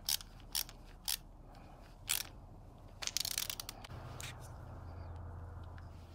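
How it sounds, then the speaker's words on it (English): A hose clamp being tightened on a fuel pump during an LS swap fuel system install, heard as a few short crisp clicks followed by a quick burst of ratcheting snaps, close up over a low steady hum. "get this clamp tightened up"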